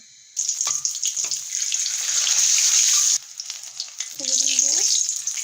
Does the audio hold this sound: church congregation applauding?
no